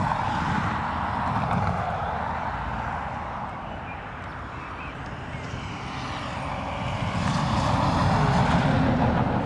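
A Ryanair airliner arriving from Madrid at Dublin Airport gives a steady, loud broadband jet roar that stays continuous throughout, dipping slightly midway and swelling again toward the end, with no talk over it.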